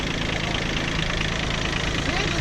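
A Kubota B1550 compact tractor's engine labors steadily while pulling a John Deere combine, a continuous loud rumbling drone with no pauses through the whole stretch.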